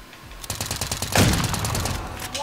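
Rapid sniper-rifle gunfire in a video game, several sharp shots in a quick rhythmic string, fairly loud and close, ending in one heavier crack with a ringing tail.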